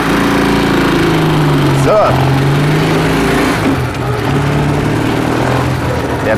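Old two-cylinder Edelweiss motorcycle, a rare machine, its engine running loud and close with a brief rev rise and fall, then settling into a steady throb, while someone says a word over it.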